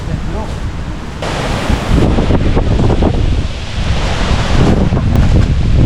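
Strong wind roars and buffets the microphone at a campsite in Yongdae-ri, loud and continuous in gusts, while people talk briefly in the background.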